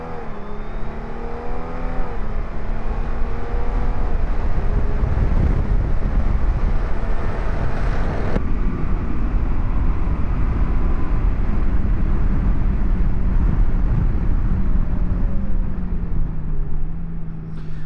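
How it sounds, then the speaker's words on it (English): Honda Goldwing Tour DCT 50th Anniversary motorcycle under full-power acceleration in drive mode, its engine tone climbing and dropping through quick automatic gear shifts, loud and steady with heavy wind rush throughout. "Let me go into drive mode and give you full acceleration and drive mode, showing you the automatic shifting."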